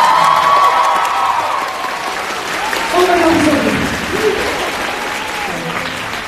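An audience applauds and cheers for Amber, full sustained clapping mixed with crowd noise and voices rising over it, loud and continuous throughout.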